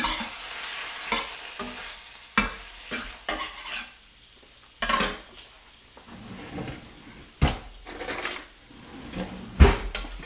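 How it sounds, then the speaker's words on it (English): Japanese short ribs frying in a pan in a kitchen, with intermittent sizzling mixed with clanks of pans, utensil scrapes and stirring, all fairly close and without talk. "let's watch the sizzle on this pan for a second"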